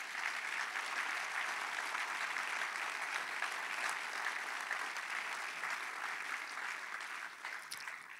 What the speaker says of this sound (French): je crois même qu'on peut l'applaudir pour lui donner beaucoup de courage